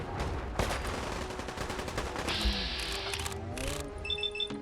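Gunfire in Fallout 4 during a fight with super mutants: a quick run of close shots, then scattered bangs mixed with game effects and an electronic whine, all fairly quiet, with no talking.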